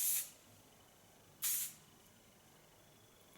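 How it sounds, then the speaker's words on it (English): Finishing hair spray hisses onto short hair in two brief, close bursts, separated by a quiet pause. "Then take some finish spray."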